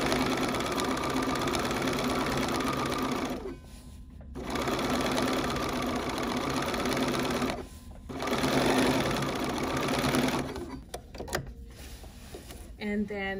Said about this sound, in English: that's how you do a quilt binding by machine